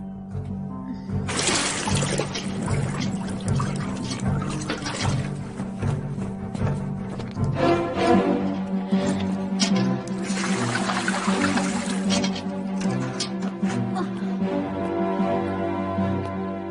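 Water poured into a clay matka in an animated Hindi-dubbed film scene, a steady splashing pour running for several seconds over a continuous music bed.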